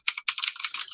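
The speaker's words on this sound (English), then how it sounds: "My typing's just gone off the chain all of a sudden." Fast typing on a computer keyboard: a quick, close run of crisp key clicks with a brief pause after the first few strokes.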